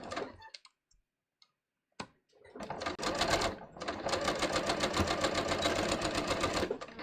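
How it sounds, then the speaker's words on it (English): A sewing machine stitching a bias-cut fabric strip back together for a scoop neck top, starting after a few quiet clicks, running in a short burst, pausing briefly, then humming steadily with a fast rapid needle rhythm, close and clear. "So first I'm sewing my strip back together."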